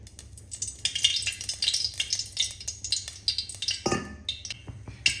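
Sliced onions frying in oil in a pan for egg curry, with a steady close sizzle broken by scraping stirs and clinks of a utensil against the pan.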